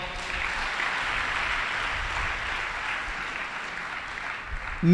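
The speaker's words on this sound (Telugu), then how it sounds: "కొట్టు చప్పట్లో" Audience at a Telugu church gathering clapping together in a sustained, even wash of applause that holds steady throughout, fairly loud and unbroken, with no voice over it.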